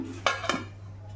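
Two quick metallic clanks, like a lid set down onto a pot, over a steady low hum.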